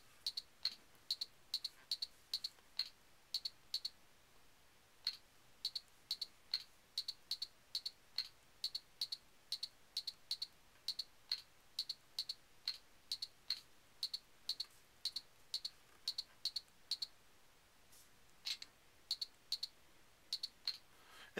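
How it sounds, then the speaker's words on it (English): Fingers tap out text on the touchscreen of a tablet lying flat on a surface. Soft, quick clicking taps run in irregular bursts with brief pauses, faint and close, with no voices. "you can actually type as if it's a keyboard"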